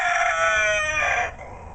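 Chickens and a rooster in a backyard chicken house crow loudly and steadily up close, a long drawn-out crow trailing off into softer clucking at the end.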